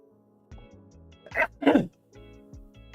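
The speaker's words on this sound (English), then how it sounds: "I feel a sneeze coming up." A sneeze bursts out in two loud, explosive blasts a moment apart, ringing against a quiet room with a low background hum before and after.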